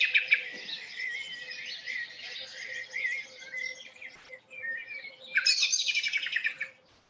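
A Eurasian blackbird calls in varied chirping phrases, bright and fairly close, with a louder burst of notes near the end over faint outdoor background.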